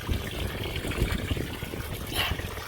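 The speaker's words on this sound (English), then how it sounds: "I'm going to turn this water back on right here." Water runs and trickles while container-grown potato plants are watered outdoors, a soft continuous splashing with small irregular bursts.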